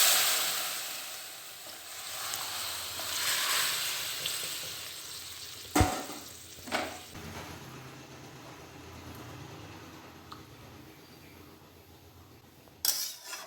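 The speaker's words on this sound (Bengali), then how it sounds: "এবারে ঝোলটা আমি মশলার মধ্যে দিয়ে দিচ্ছি" Broth poured into spice paste frying with ground leaves for a thin green curry, heard as a broad, steady close sizzle that gradually settles, broken by a few sharp utensil clinks, with no voices.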